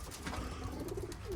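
Racing pigeons coo softly inside a loft, a low continuous murmur of several birds overlapping against steady background noise, with no talk.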